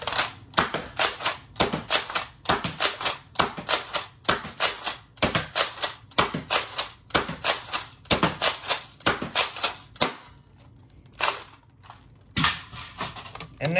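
A Nerf Nexus Pro blaster fires full-length foam darts in a rapid, clattering burst of sharp mechanical snaps. A brief pause follows, then a few more shots close to the microphone.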